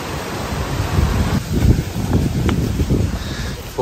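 Large mountain stream flowing in Núi Chúa National Park, a continuous broadband rushing wash of water with some rustling texture, steady and fairly close throughout.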